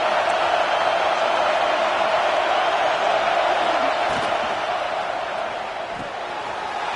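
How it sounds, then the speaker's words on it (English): At a college football game, the Alabama Crimson Tide home crowd in the stadium on Saban Field roars on third down, a loud, sustained wash of crowd noise that eases slightly near the end. "The Tide crowd rolling noise down onto Saban Field on third down."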